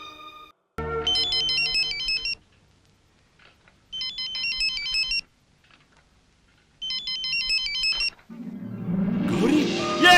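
A phone ringtone chirps in three separate bursts with silent gaps between, followed by a rush of louder rustling noise at the end.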